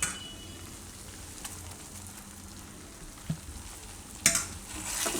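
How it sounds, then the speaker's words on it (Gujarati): Semolina roasts in ghee over a low flame for coconut halwa, making a quiet continuous sizzle with a few soft scrapes and clinks of stirring. "તો આને આપણે શેકી લઈએ ધીમા ગેસે"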